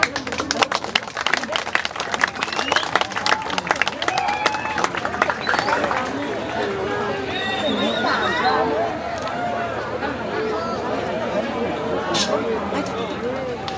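An audience at a Balinese Calonarang performance breaks into bursts of clapping and crowd noise that soon give way to a dense, steady murmur of the gathered crowd, with voices calling out over it.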